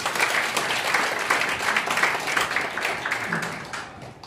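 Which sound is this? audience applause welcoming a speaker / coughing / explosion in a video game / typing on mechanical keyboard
audience applause welcoming a speaker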